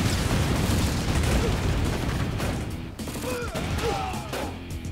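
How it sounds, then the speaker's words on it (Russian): A barrage of orbital bombardment explosions in a strategy video game, loud dense rumbling booms rolling continuously with mechanical clatter and whistling tones underneath. "Ну давайте сейчас накроем их, посмотрим, как орбитальный сделает свое дело."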